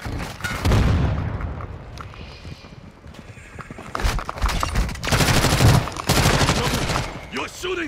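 Bursts of gunfire and booming impacts rise and fall across a Call of Duty Modern Warfare 2 multiplayer match, loud clusters of shots separated by quieter stretches.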